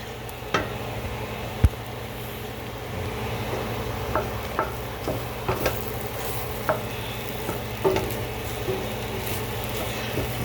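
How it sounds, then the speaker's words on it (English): Flour and tomato paste browning in a pan while being stirred, with repeated scraping and clinking spoon strokes over a low, even sizzle. "I'm gonna let that brown a little bit in there. I'm gonna stir it one more time"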